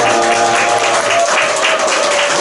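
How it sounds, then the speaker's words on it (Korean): An audience at a book concert in a church in Daegu claps for the performers, a dense, even wash of applause holding strong throughout without pause. "우리 다시 한번 출연진들에게 박수 부탁드립니다"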